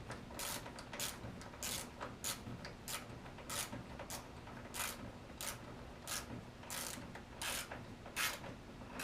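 A ratchet turns a 12 mm socket on a short extension while a 1997-2003 Honda Valkyrie gas tank is refitted; close, crisp clicking comes in quick repeated bursts with no talking.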